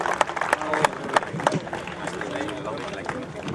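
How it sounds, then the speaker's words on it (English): Applause from an audience at a Rotary celebration at Falaknuma Palace in Hyderabad, with scattered crowd clapping and murmuring voices filling a busy hall, moderately loud and steady. "Can we all have a round of applause for them?"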